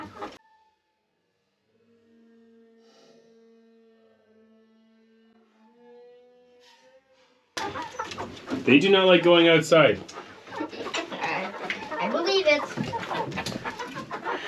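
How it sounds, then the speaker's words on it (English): Salmon Faverolles chickens cluck and coo softly indoors, then people talk over louder, busier clucking and squawking from the flock nearby. "those birds are our salmon faverelles for the most part."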